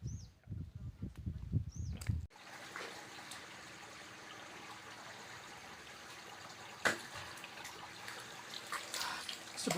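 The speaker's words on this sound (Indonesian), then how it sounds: "mata air dari pori-pori bebatuan di bawah celah tebing di pantai di ekosistem" Spring water trickles from porous rock beneath a cliff crevice on a beach, a faint continuous dribble that follows a few sharper sounds at the start, with an occasional louder splash.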